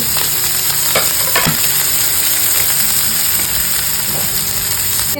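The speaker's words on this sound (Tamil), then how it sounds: "வெங்காயம் இவ்வளோ வதக்குனா போதும்." Onion, garlic and chili with dal and cumin sauté in a hot pan, making a continuous loud sizzle with a few sharp spoon scrapes and knocks early on.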